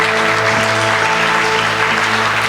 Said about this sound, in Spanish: Dele un aplauso al Señor, aleluya.